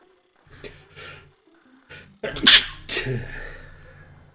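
A single sharp sneeze from a character in the Discworld II video game, preceded by a few soft breathy intakes and followed by a fading exhalation, close and moderately loud.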